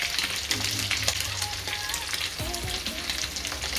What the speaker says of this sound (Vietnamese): Bây giờ là chúng ta sẽ cho tỏi vô để thêm nhiều hương vị.